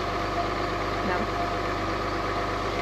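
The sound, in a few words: truck engine idling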